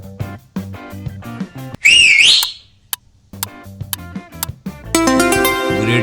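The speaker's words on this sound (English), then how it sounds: "the dolphin whistles and clicks to communicate." Dolphin vocalizing: a bright rising and warbling whistle stands out loudly in the middle, with sharp clicks around it, set against a background of tinkling music.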